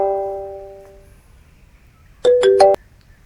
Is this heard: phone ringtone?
yes